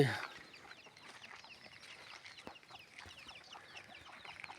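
Chickens cluck softly in repeated short bursts at a moderate distance in a Thai temple grounds, with faint background noise and a brief louder sound at the start.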